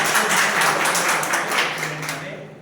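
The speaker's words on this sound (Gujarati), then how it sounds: "તેમને આપણે જોરદાર તાળી આપીએ" An audience applauds sales achievers at a business meeting in a hotel, a dense crackle of many hands clapping at once that gradually fades toward the end.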